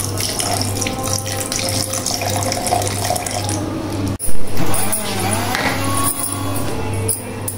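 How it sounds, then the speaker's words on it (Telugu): Homemade butter is washed under a running kitchen tap, with a steady, loud stream of water splashing into a sink and one brief clunk partway through. "చూడండి ఎలా కడుగుతున్నాను."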